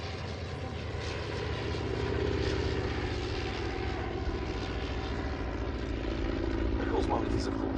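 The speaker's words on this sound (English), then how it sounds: "the aircraft you see here, the Newport 17, basically getting slightly bigger and stronger with bigger, more powerful engines" A Nieuport 17 sesquiplane biplane flies past at an air race day at Old Warden, its engine a steady, loud droning hum that swells slightly midway and holds for the whole stretch.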